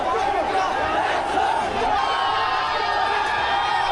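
A large protest crowd in Nepal roars continuously, many voices shouting and yelling together in a dense, unbroken wall of noise at close range.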